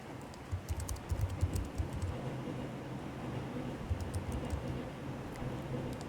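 Fingers tap out a password on a computer keyboard in quick bursts of soft, close keystrokes, with short pauses between runs and faint background hum.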